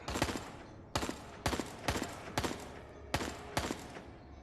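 Video game gunfire aimed at spider zombies, seven sharp shots in quick bursts of doubled cracks with short gaps, fairly close and alone without talking.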